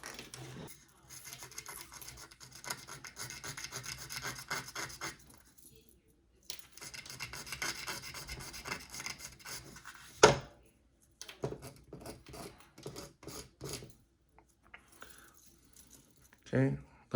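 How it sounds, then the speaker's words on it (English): Sandpaper rubs over the front of a plastic Hasbro GPSTAR 2 wand in bursts of close, dry scratching with short pauses between strokes. "we're gonna sand down the front here just a little bit"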